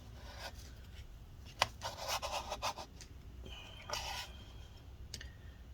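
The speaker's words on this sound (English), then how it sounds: "we're gonna kind of try and scrape this up" Scraping adhesive residue from inside a 13-inch Late 2016 MacBook Pro A1706 during a battery and trackpad repair: short, close rasping scrapes in uneven bursts, with a sharper click among them and quiet pauses between strokes.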